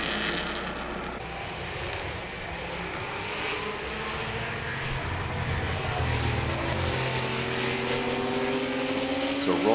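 Vintage race car running laps on a track at the Pittsburgh Vintage Grand Prix, an engine drone rising in pitch as it draws nearer, mid-distance and fairly loud, with other engine noise in the background.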